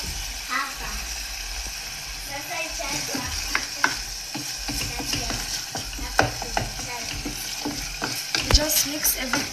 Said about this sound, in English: And then now we'll mix our delicious paste.